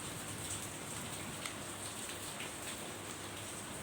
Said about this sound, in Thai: ฝนตกได้เกือบตีสองชั่วโมงแล้ว